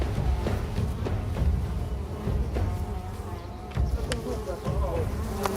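Angry East African lowland honeybees buzzing at their nest, a continuous dense drone with occasional sharper passes, heard under a faint voice.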